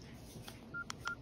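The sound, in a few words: old phone keypad dialing tones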